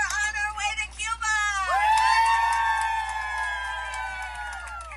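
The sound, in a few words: activists cheering on their way to Cuba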